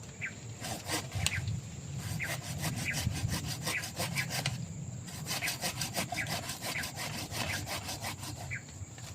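Rhythmic back-and-forth rasping of a hand saw cutting through a lower tree branch, steady close strokes repeating for several seconds with one brief pause midway.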